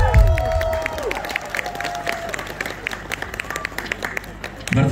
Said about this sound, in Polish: cóż to za przyjemność otrzymać tak piękne brawa